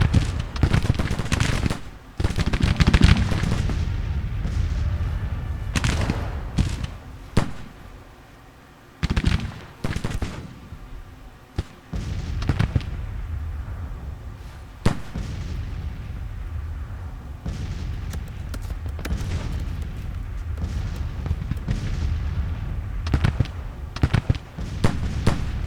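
Civil War battle gunfire in the strategy game Grand Tactician: dense, continuous musket volleys and crackling rifle fire with booming cannon blasts, loud and near, rolling in waves with brief lulls.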